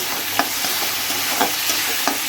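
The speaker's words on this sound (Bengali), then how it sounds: "এইবারে এর মধ্যে দিয়ে দিব কেটে রাখা টমেটো আর লঙ্কা কুচুনি।" Spice paste with chopped tomato and chilli stir-frying in a pan for Bengali curd prawns, a loud continuous sizzle with rhythmic scraping stirs of the spoon about once a second.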